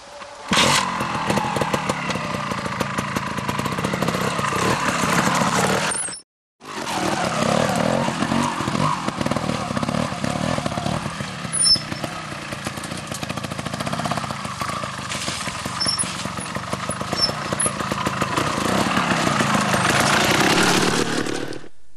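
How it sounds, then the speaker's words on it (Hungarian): Trial motorcycle ridden along a trail, its engine buzzing continuously with frequent throttle blips, loud and close for about twenty seconds with one brief cut, no talk. "és folyamatos gázfröccsökkel haladok az ösvényen"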